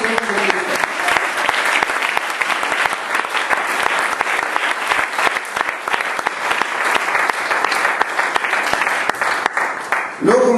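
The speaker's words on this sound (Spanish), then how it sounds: "Denle el aplauso al Señor Jesucristo" A church congregation applauds loudly and steadily for about ten seconds, many hands clapping in a continuous dense roar that drops off near the end as a voice returns.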